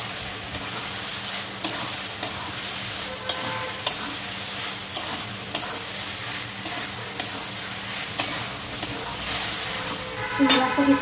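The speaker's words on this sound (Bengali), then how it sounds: "চিংড়ি মাছটাকে একটু কষিয়ে নেব।" Pre-fried prawns being stir-fried in a pan, with a soft steady sizzle punctuated by sharp, regular spatula clinks against the metal about once a second.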